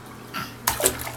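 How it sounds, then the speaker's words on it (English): A child splashing water in a bathtub, a couple of brief, close splashes over a faint background, with no clear talking. "I just want to splash."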